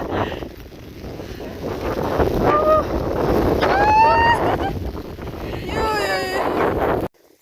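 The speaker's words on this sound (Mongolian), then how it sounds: "энд амар салхитай байна" Wind buffets the microphone in a steady roar while someone talks, with a few high whistling tones rising and falling.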